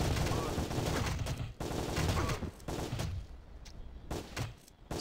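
Rapid gunshots in the Windows video game Sure Shot: dense, loud bursts of automatic fire and shots, broken by brief gaps, continuing for several seconds with occasional thuds.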